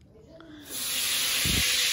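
Food drops into a hot pan of oil in a home kitchen and bursts into a loud, bright sizzle that holds steady to the end, with a soft low bump partway through.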